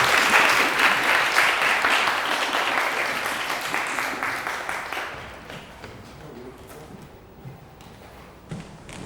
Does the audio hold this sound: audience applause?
yes